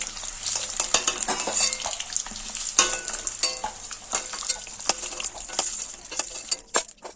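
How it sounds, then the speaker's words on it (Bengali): Eggs fry gently in shallow oil, giving a steady close crackle and sizzle with scattered pops and light scraping, and no talking. "আমি একটু হালকা করে ভেজে নিচ্ছি ডিমটা ভাজা হয়ে গেছে তেল থেকে তুলে নেবো"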